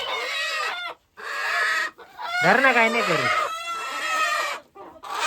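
Village free-range country chickens cluck and squawk loudly and close while being caught and handed over on a farm, with agitated calls throughout and people talking over them.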